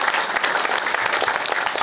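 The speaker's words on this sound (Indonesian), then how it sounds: "Tepuk tangan dumun untuk bumi sidang." Dense applause from an audience at a Balinese calonarang temple performance at Pura Pucak rolls on steadily throughout, a brief close burst of many hands clapping together.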